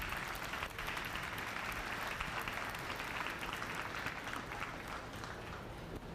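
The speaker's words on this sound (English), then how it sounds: "Let's give our senior exhibitors one big round of applause here." Steady, sustained applause from an audience at a 4-H/FFA dairy cattle showmanship event, honoring the senior exhibitors; dense clapping fills the whole stretch at an even level.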